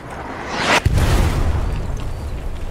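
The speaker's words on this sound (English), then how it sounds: "These mortars are getting me." A mortar round explodes in the WW2 shooter Hell Let Loose, a sharp close boom that drops into a rolling, rumbling aftermath fading over the next two seconds.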